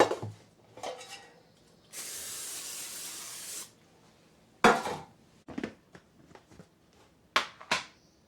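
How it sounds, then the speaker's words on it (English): A spray can of oil hisses in one long burst onto baking pans, followed by clinks and clatter of metal bakeware being handled. "I'm going to go ahead and spray the pans."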